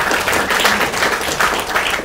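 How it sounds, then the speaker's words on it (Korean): Loud, dense applause fills the hall at a political rally as the crowd claps for lawmakers, a steady wash of many hands with no pauses and no talk over it. "우리 의원님들 힘내시라고 박수 한번 크게 쳐주시면"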